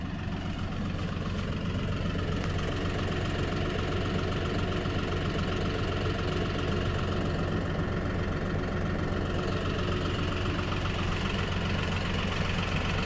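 A John Deere tractor engine runs steadily at a constant idle-like drone, loud and close, filling the whole stretch without any speech or changes in pace.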